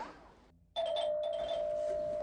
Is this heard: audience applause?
no